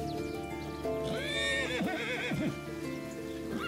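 A horse whinnies loudly and close by, a long rising-and-falling neigh with wavering pitch, alongside faint hoof clip-clops and no talking.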